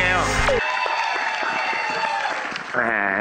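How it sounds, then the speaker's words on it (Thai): Audience applause for a young singing contestant at a Thai song contest, a broad wash of clapping and cheering that swells loudly through the hall, with a brief voice and music at the start and end. "ขอเสียงปรบมือดังๆด้วยค่ะ"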